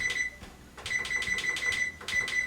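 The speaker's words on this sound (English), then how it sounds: "I'm gonna set my timer" Kitchen timer being set for cheesecake baking: a run of sharp, bright electronic beeps in quick bursts, a pause, then another beep cluster, close and fairly loud over faint room noise.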